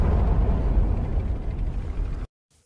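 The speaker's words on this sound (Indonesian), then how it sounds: "Satu tank Jerman pun hancur." A German tank explodes in a deep, heavy blast that roars and rumbles for about two seconds, then cuts off abruptly into silence with a faint low thud after.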